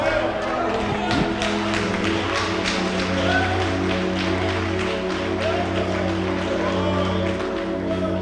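A church congregation claps hands together in steady, dense rhythm, loud and continuous throughout, with music and voices underneath.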